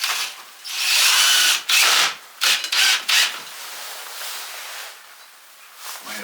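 A power drill drives screws into a wall in several loud bursts of whining and grinding, each lasting about half a second to a second, separated by short pauses, with no talking.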